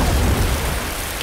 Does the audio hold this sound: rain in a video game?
yes